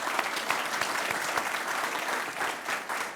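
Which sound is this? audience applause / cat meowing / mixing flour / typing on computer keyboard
audience applause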